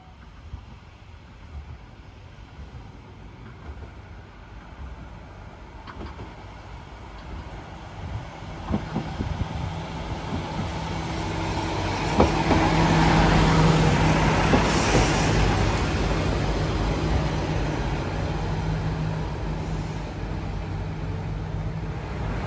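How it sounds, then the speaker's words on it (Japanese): A Kuroshio Railway local train approaches a station in Kochi, a low rumble building gradually into louder rolling and mechanical noise that peaks midway and then holds steady, with faint clanks along the way. "普通列車が来ました。"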